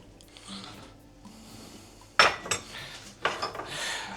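A large mixing bowl for dough is handled in a kitchen, with faint shuffling at first, then sharp clattering knocks and scraping rubs of the bowl against a hard surface, close and fairly loud.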